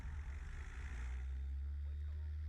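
A Piper Cherokee single-engine plane's engine runs at full takeoff power, a loud, steady low drone with a constant tone filling the cabin throughout the roll.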